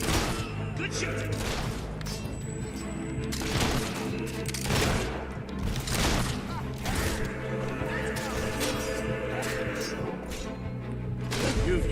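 Battle noise from the video game Fable 3 during a castle assault: repeated gunshot bursts and crashes over a layered soundtrack, with voices talking throughout.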